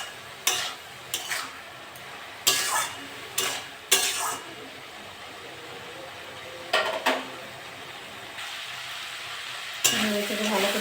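Long beans, potato and pointed gourd stir-fried in a pan, a low steady sizzle punctuated by repeated sharp scraping and clanking strokes of a spatula against the metal, close up with no voices.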